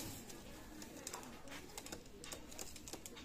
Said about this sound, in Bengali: বিয়ার্স এক পেয়ার গলালাল রানিং পেয়ার কবুতর।